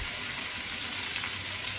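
Pomfret fish fries in a hot pan, giving a steady, even sizzle with a bright crackling hiss that holds unbroken throughout, close up and with no voices.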